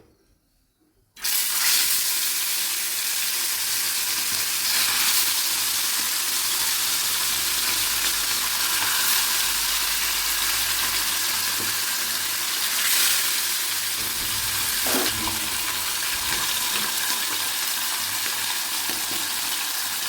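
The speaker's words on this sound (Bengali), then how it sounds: "ফ্ল্যাট কড়াইতে মাছ ভাজা ভালো হয়" Steady loud sizzling of fish frying in hot oil in a flat pan, continuous crackle throughout with occasional clinks.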